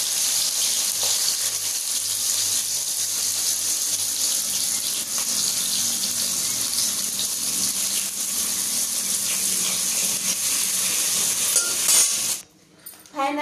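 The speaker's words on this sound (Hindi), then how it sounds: "फाइनली मैं केला को फ्राई कर ली हूँ।" Banana pieces fry in hot oil with a dense, steady hiss and crackle, holding at a constant level before it stops abruptly near the end.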